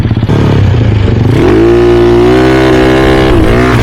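A loud Mio 160cc motorcycle engine revs up and holds a high, throaty drone close by, with no talking.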